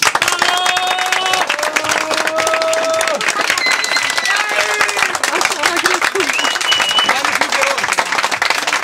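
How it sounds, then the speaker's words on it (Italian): A crowd at a Carretti soapbox cart race award ceremony in Massarosa claps and cheers for a team, dense continuous applause with whistles and shouting voices mixed in throughout. "applausi per Montelupo"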